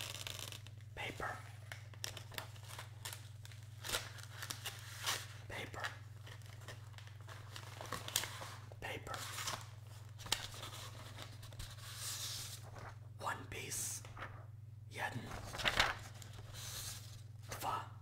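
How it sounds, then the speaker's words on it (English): Pieces of paper handled and crinkled close up in a quiet ASMR setting, soft scattered rustles and crumples over a steady low hum, with quiet speech between the sounds. "Let me get a few pieces of paper out."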